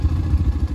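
A motorcycle approaches along a dark mountain road at night, giving a steady low engine rumble with slight pulsing, fairly close and alone for under a second.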